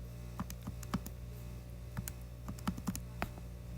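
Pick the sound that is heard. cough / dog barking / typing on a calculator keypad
typing on a calculator keypad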